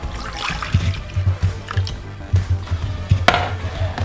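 Two cups of milk poured into a bowl for a Red Lobster Cheddar Bay biscuit mix, a soft trickling splash with light knocks against the bowl over about four seconds, close and moderately loud.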